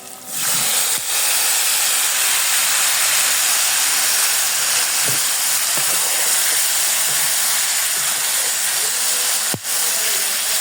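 Chopped tomatoes drop into a hot pan for a chutney and sizzle in a loud, steady hiss of steam and frying that carries on evenly with a couple of sharp clicks, no talking.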